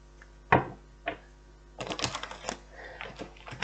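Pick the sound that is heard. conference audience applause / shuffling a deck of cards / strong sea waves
shuffling a deck of cards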